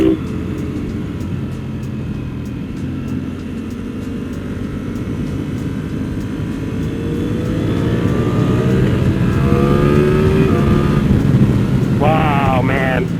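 A Lamborghini Panigale motorcycle rumbles and then revs harder as it rides, its engine note climbing through rising pitch sweeps near the end, loud and close, with voices mixed in.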